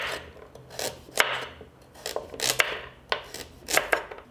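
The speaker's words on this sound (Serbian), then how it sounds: "Prvo što ću raditi, iseckaću 3 šargarepe. I seći ću ovako na kolotove." Knife chopping three carrots into rounds on a board, a steady run of quick, close, crisp cuts at roughly even rhythm, fairly quiet, with no talking.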